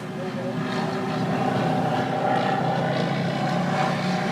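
A light aircraft with slats deployed and no flaps flies a crosswind landing approach on a westbound runway, its steady engine drone continuous and fairly loud throughout, with a faint voice talking underneath.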